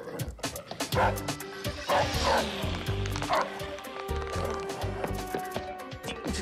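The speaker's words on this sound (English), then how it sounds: "Bad dog!" Cartoon dogs bark and yip excitedly in quick repeated bursts amid scampering and clattering action noises, with a voice shouting over them.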